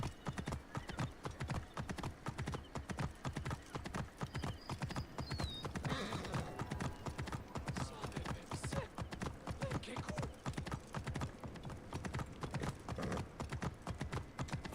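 Horse hooves clip-clop in a fast, steady rhythm throughout in the video game Assassin's Creed Origins, with a brief whinny partway through and faint voices in the background.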